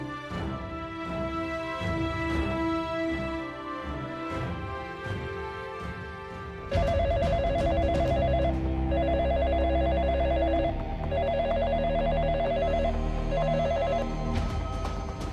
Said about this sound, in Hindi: संगीत, यूं अचानक तुमने मुझे क्यों फोन किया?